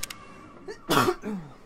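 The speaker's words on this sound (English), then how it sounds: "Stupid cough." A single harsh cough close by, preceded by a faint short throat sound, with quiet room tone around it.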